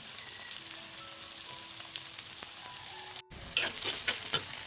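Shallots and garlic sauté in a hot pan with a steady sizzle. A brief stir interrupts it, then louder, crackly frying picks up close by.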